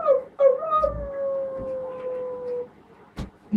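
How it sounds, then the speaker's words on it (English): A talking sheep dog figure at Dan Yr Ogof National Showcaves lets out a long, wavering howl after a short opening yelp, fairly close and clear, followed by a couple of brief knocks. "I often give a bark just to reassure myself."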